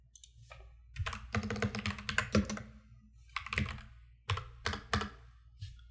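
Rapid typing on a computer keyboard while coding a programming puzzle solution, bursts of close, crisp key clicks in uneven clusters with brief pauses, alone without talk.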